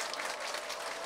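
Brief burst of audience clapping from an indoor gathering, steady and moderately loud for about a second.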